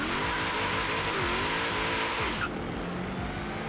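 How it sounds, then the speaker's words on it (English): Supercharged 1990 Chevrolet Camaro IROC-Z in a racing video game, engine roaring steadily with a high supercharger whine riding on top, revs shifting and dropping slightly partway through; no talking. "hear that whining from the supercharger. It sounds pretty pretty nice."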